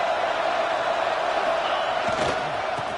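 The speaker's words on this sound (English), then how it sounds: "And here comes the noise. This crowd is trying to inspire this defense to make a big red zone stop." Football stadium crowd roaring to spur the defense before a red zone down, a dense steady wall of cheering and yelling that holds loud throughout.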